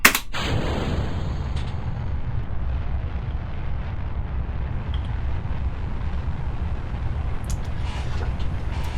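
A rocket booster igniting in Kerbal Space Program: a sharp blast at ignition, then a loud, steady rumbling roar of engine thrust that continues without a break, no talking.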